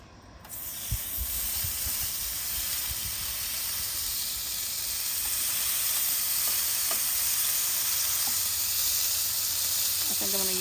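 Bacon sizzles on a Ninja Woodfire XL Pro grill griddle, a steady broad hiss that holds loud and even throughout, with a few faint clicks near the end.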